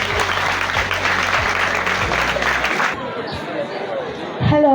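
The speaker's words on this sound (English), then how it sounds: "Then they take it from there with a round of applause." Applause from an audience at a senior high school visit, a loud wash of clapping that cuts off abruptly midway, followed by murmuring and then a voice starting to speak.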